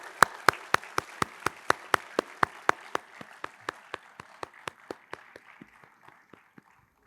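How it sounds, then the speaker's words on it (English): At a Festival of Thinkers felicitation for an education minister, the audience claps in an even, rhythmic beat of distinct claps, about three per second, gradually thinning and fading toward the end. "A big round of applause."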